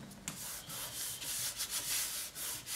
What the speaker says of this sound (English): rub with my fingers